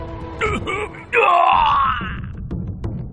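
A man possessed by an unclean spirit convulses and cries out in a Bible audio drama, giving a loud, drawn-out anguished scream that follows a short strained vocal sound.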